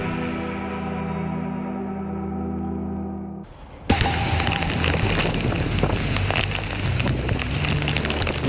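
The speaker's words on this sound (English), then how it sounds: "Listen to that wind and rain in Adel, Georgia." Wind and heavy rain from a severe thunderstorm in Adel, Georgia, a loud, dense steady roar that cuts in abruptly after a few seconds of quieter tonal broadcast sound.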